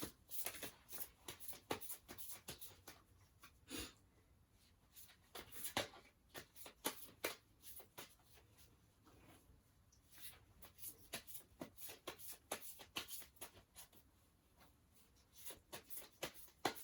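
A deck of tarot cards is shuffled for about seventeen seconds, giving soft, rapid papery flutters and clicks in irregular bursts, fairly quiet and close, with no voice.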